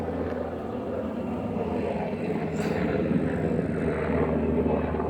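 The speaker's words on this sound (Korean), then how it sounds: "하여튼 헬리콥터도 지나가네." A helicopter passing over rural farmland in Goesan, North Chungcheong, heard as a steady broadband rotor and engine drone that holds at a fairly even loudness throughout, without speech.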